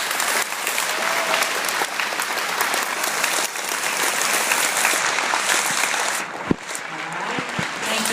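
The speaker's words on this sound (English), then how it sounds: "Let's give them a round of applause." An elementary school Veterans Day assembly applauds Army veterans: dense, sustained clapping from a big crowd of children and families fills the room, then thins out near the end with a few scattered claps and a thump.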